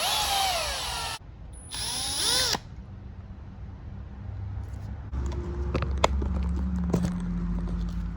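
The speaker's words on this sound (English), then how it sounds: "get the smallest drill bit you can find" A small drill bit bores out the pin of a Mercedes door handle, a high whining drill running in short bursts at close range, then stopping for quieter handling and tapping noises.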